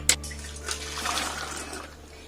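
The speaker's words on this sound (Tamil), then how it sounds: "தண்ணி வடிச்சிடலாம்." Cooking water being poured off cooked rajma beans after pressure cooking in a cooker, a short watery splash at the start followed by a steady trickling pour that slowly tapers, close and fairly quiet.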